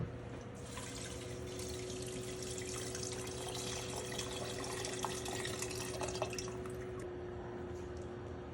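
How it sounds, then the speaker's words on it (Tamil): Water is poured into a pot of moong dal and kodo millet in a home kitchen. It makes a steady, hissing splash of moderate level with a faint low hum underneath. "இப்போ 4 கப்பு தண்ணி ஊற்ற போகிறோம்."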